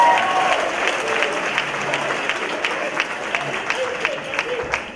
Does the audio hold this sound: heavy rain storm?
no